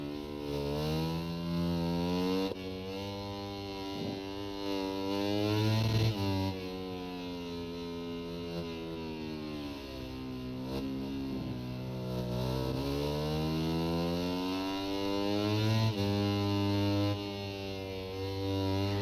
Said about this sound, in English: the funny thing is the bikes do actually sound like this